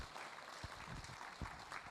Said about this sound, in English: let's do one more little clap for Chris